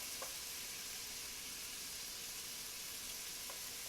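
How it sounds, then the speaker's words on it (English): Grits being stirred in a pot on a stove, a soft steady sizzle and bubbling hiss running throughout with a couple of faint scrapes, no voices. "Give your grits a little stir."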